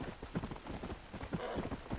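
A Hungarian half-breed horse in Red Dead Redemption trots along, its hooves clip-clopping in a quick, uneven rhythm at a soft, moderate distance.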